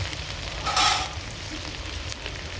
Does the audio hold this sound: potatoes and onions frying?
yes